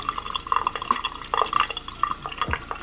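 Water poured over Timberland boots in a waterproof test splashes and drips in irregular, close patters of droplets, with light trickling and a few sharper taps.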